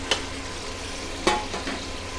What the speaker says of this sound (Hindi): ये देखें गोश्त हमारा फ्राई हो गया है